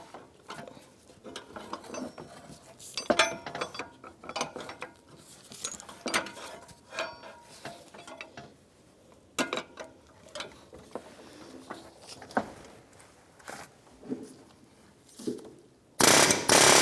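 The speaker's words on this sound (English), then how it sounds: "I'm going to hook my air gun chisel. I'm going to give it a couple blasts" A pneumatic air chisel is used on a fan clutch while a radiator is replaced on a 1992-1996 Ford F-150. It gives scattered short rattling bursts and metallic clanks at close range, ending in a louder blast.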